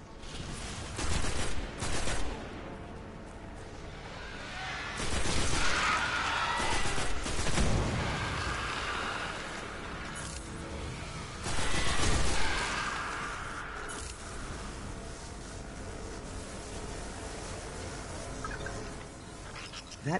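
Gunfire in Destiny: The Taken King during a Dreadnaught mission, with several loud bursts of rapid shots between quieter game ambience.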